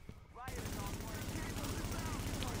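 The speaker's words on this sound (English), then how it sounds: "Oh my god, this gun jumps so badly." Rapid continuous automatic gunfire from a gun in The Division, starting abruptly after a short quiet moment and hammering steadily at a fast rhythm, with a voice faintly underneath.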